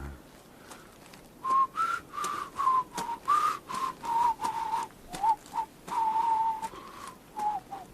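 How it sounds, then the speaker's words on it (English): A person whistles a simple wavering tune, a steady series of short, clear notes with brief gaps, close and alone over a quiet background. "that's the thing to do, whistle"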